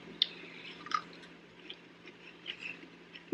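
Soft, close chewing of pickled okra, with a few crisp bites and moist mouth sounds spread unevenly over a few seconds in a quiet room, with no talking.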